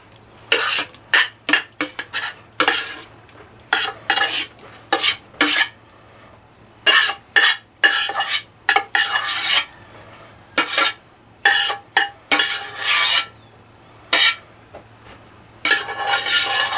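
Cooked noodles and macaroni being mixed in a dish for homemade mac and cheese, with repeated scraping and clinking bursts of a utensil against the container in an irregular rhythm, separated by short pauses, close and fairly loud, no talking.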